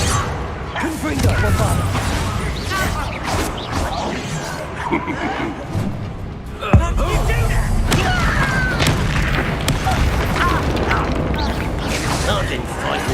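Confringo fire spell blasts in Hogwarts Legacy gameplay, sharp booming impacts and crashes amid combat clatter, with voices talking over much of the action.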